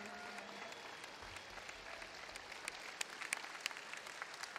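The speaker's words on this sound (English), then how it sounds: "Let's have a round of applause for all that." A crowd at a jiu-jitsu match between Garry Tonon and Ralek Gracie gives a round of applause, faint and distant, a thin scattered clapping with a few sharper claps standing out near the end.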